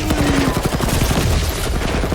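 Rocket's five-barrel barrage rattles out rapid gunfire in Marvel's Guardians of the Galaxy game, a loud continuous stream of close bursts with a booming low end and no talking.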